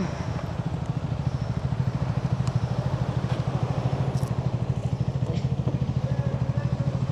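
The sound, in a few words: motorcycle engine running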